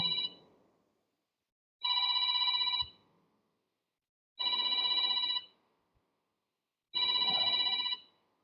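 A mobile phone rings in three long electronic trills spaced by pauses, clear and close, with a quieter tail of a fourth ring at the start, during a church gathering.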